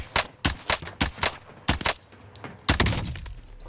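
Gunfire in Call of Duty Warzone, a rapid uneven string of about ten loud sharp shots in bursts, close and punchy with short gaps and faint high tones between.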